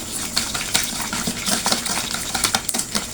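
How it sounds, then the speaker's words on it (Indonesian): Kue pukis batter of sugar, vanilla and other ingredients whisked in a bowl, a steady wet scraping and rattling of the whisk against the bowl with rapid irregular clicks, close and continuous. "Lanjut kita kocok dulu ini bahan ini"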